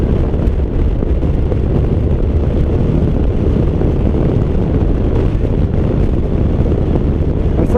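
Benelli TRK 502 motorcycle cruising steadily at about 80 km/h and just over 4000 RPM, a continuous loud engine drone mixed with heavy wind rush, constant throughout with no talk.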